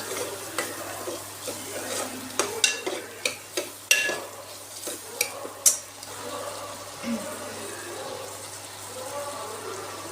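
Homemade red chilli powder and Kashmiri chilli powder frying in a pan for bottle gourd bhaji, with a steady soft sizzle under a string of sharp spoon scrapes and clinks against the metal.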